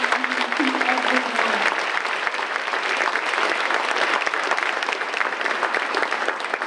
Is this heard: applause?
yes